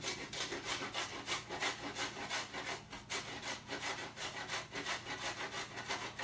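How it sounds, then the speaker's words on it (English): Fresh ginger grated by hand on a kitchen grater, a close, steady rhythm of rasping strokes, roughly two or three per second, without any talk. "then I'll get my grater, some ginger"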